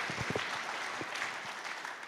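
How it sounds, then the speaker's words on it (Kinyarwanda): A church congregation claps together for the Lord, a brief burst of applause that starts with sharp, close hand claps and settles into steady, moderately loud clapping with no talk over it. "Let's clap for our Lord."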